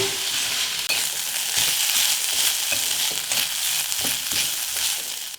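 Fenugreek leaves with ginger, garlic and chilli frying in a pan over a medium flame: a steady, close sizzle with intermittent stirring scrapes and no talking.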